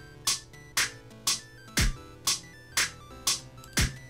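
A home-made sample music beat with a metronome ticking behind it: eight evenly spaced bright pings about half a second apart, with heavier kick hits landing in time on some of them, steady and fairly quiet, no voices.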